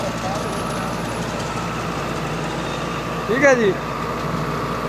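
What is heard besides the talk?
60 HP tractor running super seeder in creeper gear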